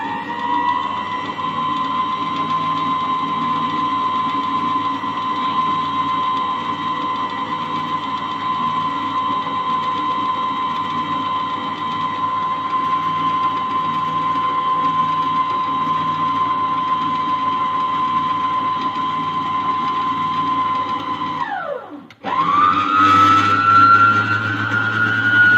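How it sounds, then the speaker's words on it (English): An electric mixer beating egg whites for a birthday fruit cake, a loud steady motor whine that holds for a long stretch, then dips and rises as the speed changes near the end. "now we're going to start beating our egg whites"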